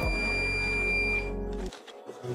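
Buzzer on an Arduino parking-sensor circuit with an HC-SR04 ultrasonic sensor, a steady continuous tone held close and loud for over a second before cutting off abruptly.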